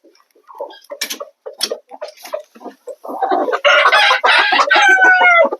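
Hens cluck in short scattered bursts up close, then a rooster lets out a loud, sustained crow that dominates the last couple of seconds.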